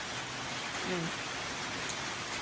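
Steady rain falls on a rural Thai homestead, a dense continuous patter with a brief low tone passing beneath it.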